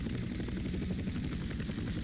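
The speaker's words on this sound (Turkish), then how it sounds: "Ha, iyi uçurdun helikopter." A helicopter flies in the video game GTA San Andreas, its steady rotor chop and whining turbine droning on without a break at moderate volume.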